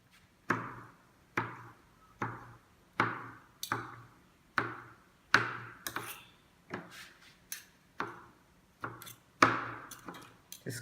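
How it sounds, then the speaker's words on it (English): A knife chops food into small cubes on a board, giving about a dozen sharp, close knocks at a fairly steady pace, alone with no talk. "Just cut it into small cubes."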